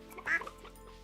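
A duck on a farm in the video game Stardew Valley gives a single short, bright quack, close and clear over a quiet background.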